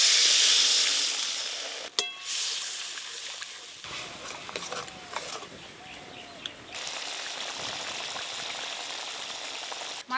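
Water poured onto fried spice paste for a rohu fish belly curry, a loud hiss and sizzle that settles into steady steaming and bubbling, with a sharp clatter near the start.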